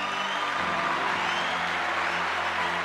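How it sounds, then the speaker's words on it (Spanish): A church congregation applauds for the Father during a Spanish-language sermon, a steady, dense wash of clapping that fills the whole stretch without a break. "Dale un aplauso al Padre."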